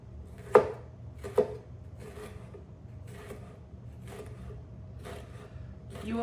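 A super sharp Santoku knife chops food on a board, giving a few crisp isolated cuts, with two louder strikes early and softer ones spaced out after, close and quiet over a low steady hum.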